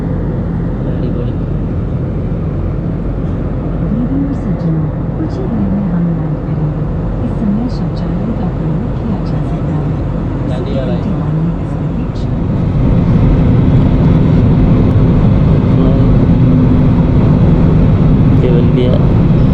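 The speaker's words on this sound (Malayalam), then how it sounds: "നമ്മൾ ഏതാനും നിമിഷങ്ങൾക്കകം ലാൻഡ് ചെയ്യാൻ പോവുകയാണ്." Airplane cabin noise on a passenger flight shortly before landing, a steady loud drone that swells a little louder partway through, with a person speaking over it.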